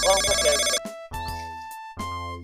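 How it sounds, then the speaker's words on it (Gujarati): A mobile phone ringtone plays loudly and close, a melodic tone pattern cut into repeated bursts with short gaps between them. "ફોન આવ્યો તો અલ્યા આ તો આપણે ઉપરથી આવ્યો ફોન"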